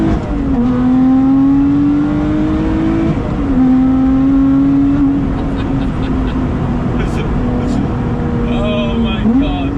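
A Lotus Exige 410 sports car engine drones loud and close while driving, its pitch climbing steadily and dropping at each gear change, then rising again in a continuous strained note.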